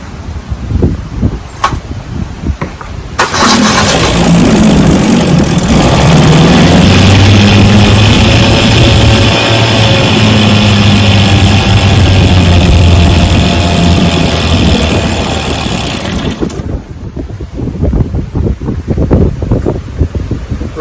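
A 1967 Evinrude 3 HP outboard motor with a freshly cleaned carburetor starts and runs on a lake, a loud steady drone lasting about thirteen seconds over wind noise before cutting off.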